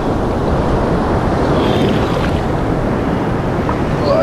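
Stormy sea surf rolls onto the beach at Anapa, Mozhepsin, as a loud, continuous roar of breaking waves mixed with wind rumble, with no voices.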